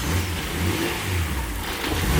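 A $70,000 HKS crate engine in an R33 GTR revs loudly and steadily, a close, continuous mid-pitched roar with slight swells, and no voices over it.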